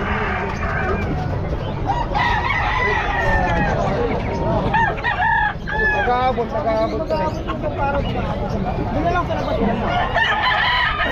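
Roosters crowing repeatedly and chickens clucking at a busy pet market in Bocaue, the bird calls loud and close amid steady crowd babble while people talk nearby.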